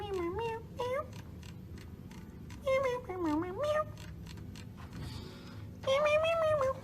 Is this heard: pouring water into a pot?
no